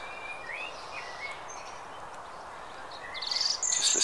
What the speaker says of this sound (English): It's like a million birds or something up here.